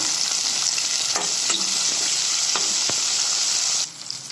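Tomatoes and onions sauté in a pan for bisi bele bath, a loud steady sizzle with a few sharp taps of a stirring spoon, the hiss dropping away abruptly near the end, no talking.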